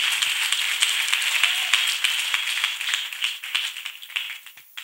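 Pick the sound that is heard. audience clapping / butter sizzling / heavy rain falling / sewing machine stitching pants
audience clapping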